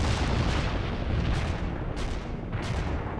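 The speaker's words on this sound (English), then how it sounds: "Artillery attack." A heavy artillery barrage in the World in Conflict video game, on a Soviet assault mission, rolls out as a loud, continuous rumble of overlapping booming blasts with deep low-end weight and no break.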